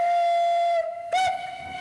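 The whistle of La Vapeur du Trieux steam locomotive in Brittany, France, sounds a long, loud, steady tone, then gives a second short blast after a brief pause.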